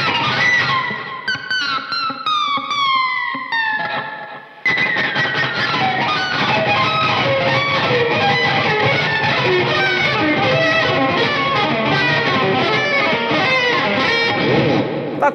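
An electric guitar on the bridge pickup is scraped and worked with a metal tremolo bar, producing loud, distorted, chaotic squeals and sliding pitches, with a short dip before a dense, continuous, noisy wail takes over.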